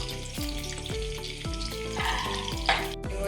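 Green beans sizzle in hot olive oil in a pan, a steady crackling fry with a repeated rhythmic scraping and stirring close by.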